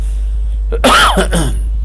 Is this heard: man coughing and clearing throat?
yes